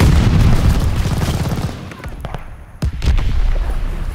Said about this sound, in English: Ally mortar fire inbound!